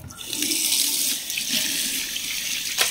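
Rust-coloured water pours steadily from a tap in a home, a continuous rushing splash that stays fairly close and loud throughout, with no talk.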